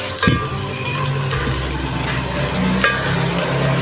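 Green onions fry lightly in a pan with oil, giving a continuous close sizzle and crackle with a few stirring scrapes, no voices over it.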